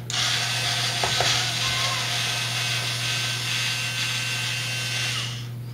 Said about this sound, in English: we'll take all the screws off